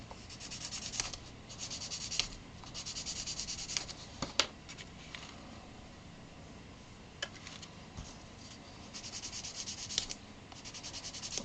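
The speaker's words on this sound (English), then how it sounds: "We also got a little sanding stick here." A small sanding stick rubs back and forth over a plastic terrain piece for wargaming, smoothing off mold lines in steady close scratchy strokes that pause and resume, with a few sharper ticks, alone without talk.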